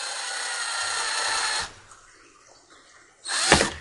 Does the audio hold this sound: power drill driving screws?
yes